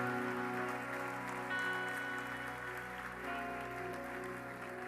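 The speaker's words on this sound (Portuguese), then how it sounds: "Você pode aplaudir Jesus?" A church congregation applauds, a dense patter of clapping that sounds like rain, under sustained organ or keyboard chords that dominate the mix.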